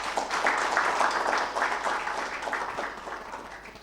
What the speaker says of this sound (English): Another round of applause for the PS.